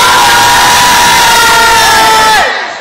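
Live comedy show audience responding loudly with a dense crowd roar of voices, sustained and close, then tapering off abruptly near the end.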